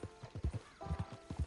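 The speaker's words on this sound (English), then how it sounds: "Get on the horse there." A horse's hooves clip-clop in a video game, a quick, even rhythm of soft close hoofbeats, faint and with no talk.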